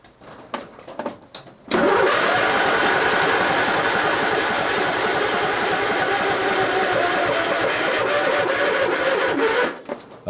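A John Deere LA135 lawn tractor engine cranks in a few short bursts, then catches into a loud, sustained, close running drone that cuts off near the end.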